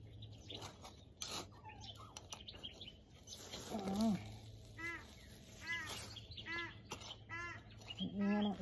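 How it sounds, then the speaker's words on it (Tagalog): Birds calling in a small home garden where potatoes are being harvested: several short, fairly clear harmonic calls repeat through the second half, over steady outdoor hiss and low hum, with faint background murmur. "Ingay ng ibon."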